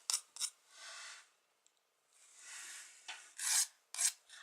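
A nail file rasps across fingernails in short repeated strokes, close and fairly quiet, with brief pauses between bursts and no talking.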